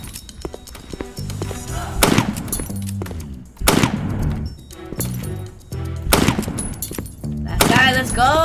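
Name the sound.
pistol gunfire in video game Time Shooter 2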